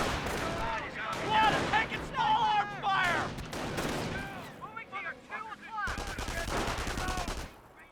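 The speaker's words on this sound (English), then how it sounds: "Sniper firing against the rifle squad." Sniper and rifle squad gunfire rattle in the WWII strategy game Company of Heroes, Wehrmacht against US forces. Repeated shots and bursts crackle through the battle noise while a commentator talks over them.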